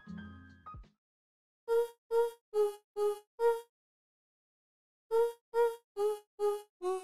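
Short, pitched vocal chops play in two quick runs of five evenly spaced syllables, separated by a pause, with no talking.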